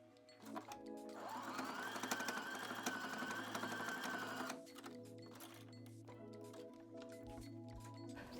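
A sewing machine stitching summer tuck shorts, a rapid close mechanical whirring run of several seconds, then quieter handling and faint clicks afterward.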